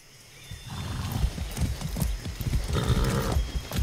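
Saddled horse hooves clip-clop close by in Far Cry 6, a steady run of hoofbeats building over a low rumble with a faint snort, no talking.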